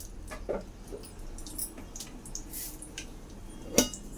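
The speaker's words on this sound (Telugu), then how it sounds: "ఆయిల్ బాగా హీట్ అయ్యాక ఆవాలు జీలకర్ర వేసుకోవాలి" Mustard seeds and cumin dropped into hot oil for tomato rasam: sparse crackling pops and sizzling spits, a few sharper bursts near the end, close and fairly quiet.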